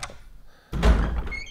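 A door opens in the Resident Evil video game with one dull, heavy thunk and a short resonant tail, close and with no voices over it.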